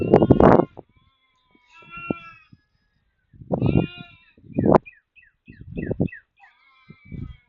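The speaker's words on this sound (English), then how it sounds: "If you hear sheep or cows, sorry, can't control those." Sheep on a farm bleat several times in loud, close calls separated by pauses, with faint bird chirps in the gaps.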